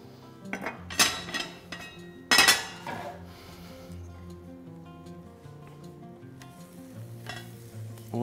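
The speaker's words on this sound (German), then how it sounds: "Und rein in die Pfanne, schön heiß, hört man sofort." Romaine lettuce halves go into a very hot frying pan, with loud clanks and scrapes of pan and utensils up front, then a soft steady sizzle and low hum carrying on underneath.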